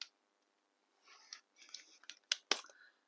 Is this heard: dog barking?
no